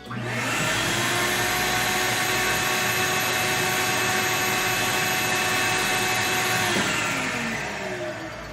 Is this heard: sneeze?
no